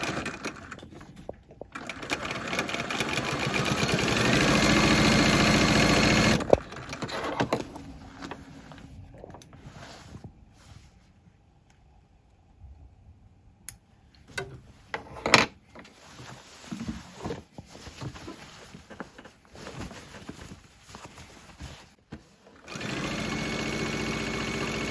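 A sewing machine stitches cloth leaders for a quilting frame, a loud steady mechanical whir in runs at the start and end, with brief reverse bursts and quiet clicks and handling noises between.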